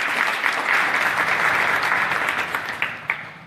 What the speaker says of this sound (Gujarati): તો પહેલા તો એમના માટે જોરદાર તાળીઓ થઈ જાય.